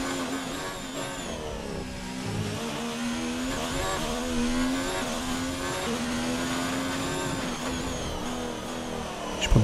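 Formula 1 car lapping the Baku street circuit in Azerbaijan during qualifying in F1 2019, its engine whining steadily with rising and falling pitch through gear changes, loud and close.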